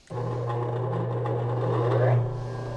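A large wall-mounted StewMac guitar buffer motor runs with a steady, close, loud electric hum and a whirring drone that swells slightly near the end.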